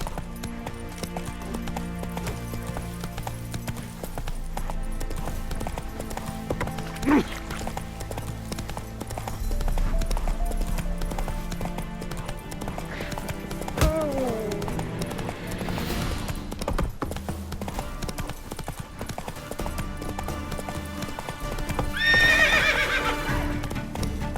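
Roach gallops in The Witcher 3 with a constant run of hoofbeats, set against game music and ambience. Several whinnies and neighs break through, the loudest near the end.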